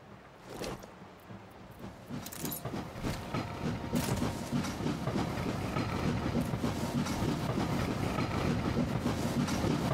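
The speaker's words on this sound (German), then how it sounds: "Ich sehe immer so 50 Züge gleichzeitig fahren" Dozens of trains running at once across a busy rail network in the city-building game Anno 1800, a steady rolling rumble with clickety-clack rhythm that holds throughout at a constant level, with no talk.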